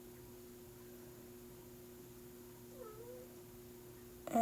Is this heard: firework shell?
no